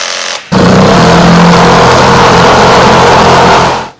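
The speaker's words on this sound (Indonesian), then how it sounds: "Ini drill 3 dalam 1." A Black and Decker EVO 3-in-1 power drill whirs loudly and steadily for about three seconds after a short start, then winds down and stops.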